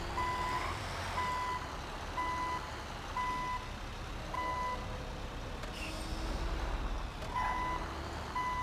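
A truck's reversing alarm in the FiveM game during a trucker job, beeping steadily about once a second over a constant engine drone, with no talk.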